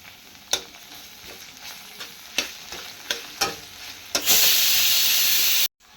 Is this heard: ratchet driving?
no